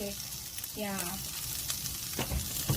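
Mushrooms stir-fried in a pan: a soft, continuous sizzle with a few stirring scrapes, faint and close, with a brief voice-like sound partway through.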